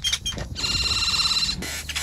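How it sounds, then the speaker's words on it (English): Grackles give harsh, buzzy calls with a sustained metallic, whistling trill, close and loud, over a rough background of outdoor noise. "These are grackles."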